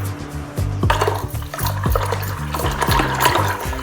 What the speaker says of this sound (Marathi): आता हे रवीच्या सहाय्याने आपल्याला चांगलं घुसळून घ्यायचं आहे.